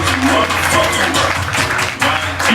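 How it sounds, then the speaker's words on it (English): Studio audience on a talk show clapping steadily and loudly throughout, a dense continuous patter with a voice faintly mixed in. "Keep clapping, y'all."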